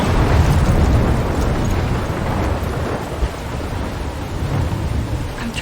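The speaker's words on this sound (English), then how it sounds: "I'm trapped in a storm?" Thunderstorm in the video game Life Is Strange: a heavy, continuous wash of rain with deep rumbling thunder rolling underneath, steady and loud throughout with no voices.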